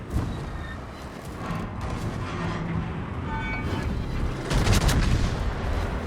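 Naval gun salvo in a warship video game: deep rumbling booms of heavy turret fire rolling over a continuous low battle drone, with a stronger, louder blast near the end.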